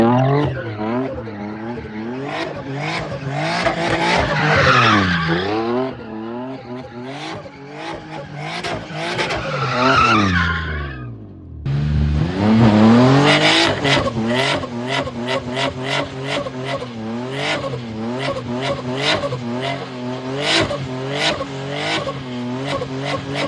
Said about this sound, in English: I did have to do a celebratory burnout, just for the car kind of being cosmetically complete and all that.